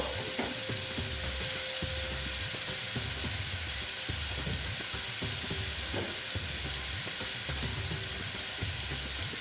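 Spice powders fry in hot oil for a restaurant-style Afghani egg curry, a steady close sizzle broken by occasional clicks and scrapes as the pan is stirred, with no voices.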